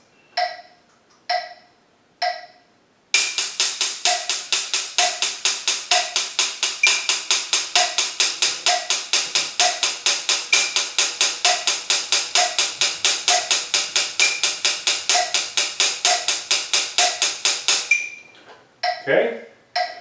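Drum 16th notes played with one hand, a fast, even stream of crisp strokes over a steady metronome click, close and loud, with a few lone clicks before and a short thud after.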